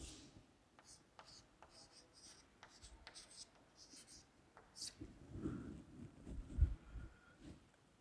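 A pen scratches across paper during a class 9 maths lesson on the midpoint theorem, in faint, irregular strokes at close range, with some heavier handling sounds near the end.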